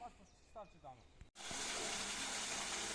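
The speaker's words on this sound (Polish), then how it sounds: "W studni już jest pompa, rura wyprowadzająca i będziemy pierwszą wodę zaraz tłoczyć." Well pump forcing the first slightly clayey water up a pipe from a newly dug deep well, a loud steady gushing rush that starts abruptly after a brief pause and continues, following some faint earlier sounds.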